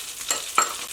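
Chili, scallion whites and garlic slices stir-frying in hot oil beside pushed-aside scrambled egg, a soft sizzle with two quick spatula scrapes close by, no talking.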